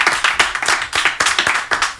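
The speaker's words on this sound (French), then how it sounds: "Déjà ça s'applaudit, bravo." A small studio audience at a televised quiz show claps for a contestant's correct answer, a few distinct, uneven claps close by.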